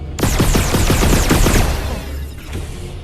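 Rapid burst of loud video-game gunfire aimed at a turret in Red Matter 2, a dozen or so quick sharp shots in steady rhythm, then trailing off into a fading echo with one softer report near the end.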